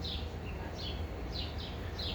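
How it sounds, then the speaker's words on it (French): Small birds singing in a quiet garden, a series of bright chirping phrases repeating every half second or so, moderately near over a low steady background hum, with no talking. "Il y a plein d'oiseaux."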